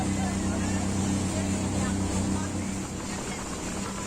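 Speedboat engine droning steadily on a day trip among the islands of Komodo National Park, a loud continuous low hum with wind and water rush over it throughout.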